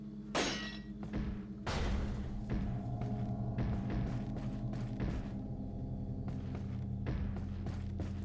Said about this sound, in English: You hear all that thumping?